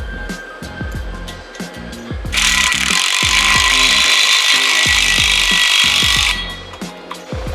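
Hand ratchet tightening an exhaust clamp on a 2021-or-later Ford F-150 catback install, loud repeated clicking strokes in an uneven rhythm, close up, with a brief burst of hiss partway through.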